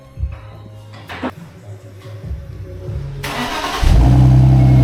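A BMW E39 520i engine with a new exhaust cranks and catches, then roars louder as it revs up, close and rumbling.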